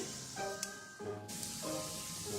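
Shami kebabs fry in oil over a low flame, a steady soft sizzle with faint scraping and clinks from a spatula now and then.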